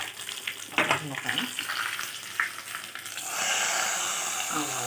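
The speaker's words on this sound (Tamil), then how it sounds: "வத்தல் மிளகா கருவேப்பிலை எல்லாம் போட்டு தாளித்து குழம்புல போட்டுக்கலாம்" Dried red chillies and curry leaves crackle and sizzle in hot oil as a tempering for a Kerala-style rasakalaan curry, with stirring clatter at first and then a steady, close hiss of frying.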